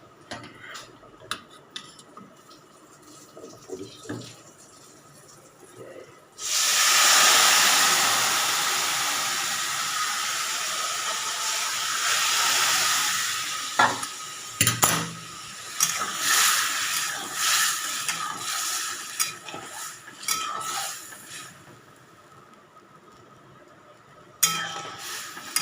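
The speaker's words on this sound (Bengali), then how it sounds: "চলো ডালটা ঢেলে দিই।" Dal poured into a hot pan bursts into a loud, bright sizzle that gradually settles into a softer steady hiss, with clinks of utensils and a second flare of sizzling near the end.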